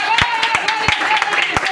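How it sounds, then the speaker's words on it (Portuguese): A church congregation claps in a quick, steady rhythm during a Sunday family service with an evangelist preaching, the sharp claps repeating over sustained tones that sound like music or voices. "vamos dar uma salva de palmas para Jesus"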